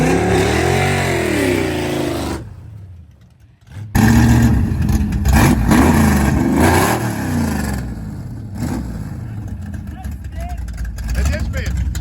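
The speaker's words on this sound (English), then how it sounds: "We'll burn out and do it all again." A 1971 Dodge Demon race car's engine revs hard during a burnout, loud and sustained with a brief drop before roaring again, as people talk over it.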